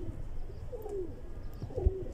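A female Rampuri pigeon gives a soft, low, throaty coo twice over about two seconds, quiet and fairly close.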